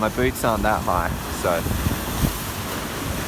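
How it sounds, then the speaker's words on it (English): Stormy wind and surf at a jetty in a Western Australian town, a steady roar of gusts and waves with heavy microphone buffeting, a person talking over it at the start. "It's very stormy today."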